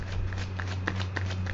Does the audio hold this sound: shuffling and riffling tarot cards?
yes